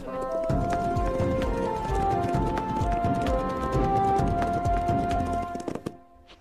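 Horses' hooves clip-clop in a fast, steady rhythm on ground beneath a cliff in the cartoon Yakari, many quick hollow knocks running over music before fading away at the end.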